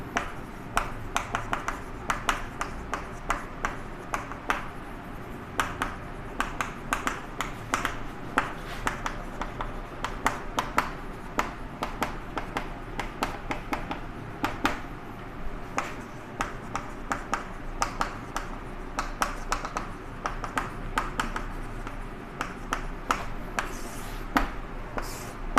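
Marker or chalk writing on a board during a Hindi electronics lesson on energy bands, heard as steady scratchy strokes and taps running throughout with no talk over them.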